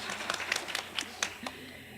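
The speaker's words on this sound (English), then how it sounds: "Can we get some applause for that one?" At a university student-testimonial event, an audience offers a few scattered, separate claps over about two seconds. The quiet, sparse hand-claps never build into full applause and trail off into room hush.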